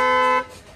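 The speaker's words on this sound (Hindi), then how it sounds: "एक हॉर्न के अंदर अपडेट किया गया है वो भी आपको मैं सुना देता हूँ" A single-tone horn on a base-model Tata Punch gives one loud, steady honk lasting under half a second, its stacked harmonics cutting off abruptly before the dual-tone upgrade is sounded.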